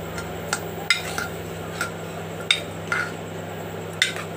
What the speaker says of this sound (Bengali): চালটা আমি নেড়ে নিচ্ছি